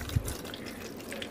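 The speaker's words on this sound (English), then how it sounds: "I'm gonna pour some water in here." Water from a gallon pitcher poured into a portable collapsible foot spa, a short close splashing gurgle of liquid with a soft thump at the start, no talk.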